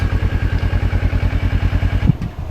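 A sport motorcycle, either a Yamaha MT-09 or a Kawasaki Ninja 650, rolling slowly into a driveway after a ride: a close, loud, pulsing low engine thump at a steady rhythm, with a brief clunk near the end.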